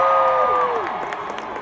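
An audience at the CES 2025 Delta keynote in the Sphere, Las Vegas, cheers and applauds, a loud sustained crowd roar with whoops, tailing off within about two seconds.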